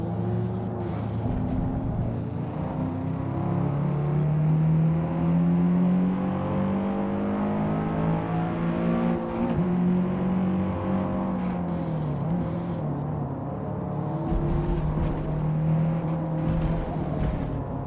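BMW M3 race car in Gran Turismo 7, its engine droning steadily with repeated rises and dips in revs through gear changes, moderately loud and alone.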